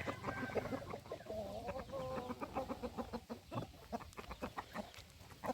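Several chickens being exercised clucking and chirping close by, a busy run of short calls with a few drawn-out squawks.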